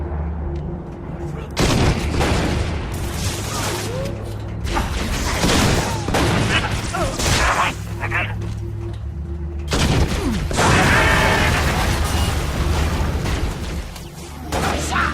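Gunfire and explosions in the Halo Reach video game, with repeated bursts of shots and heavy booms in two loud waves separated by a brief lull, and mechanical whirs and occasional voices mixed in.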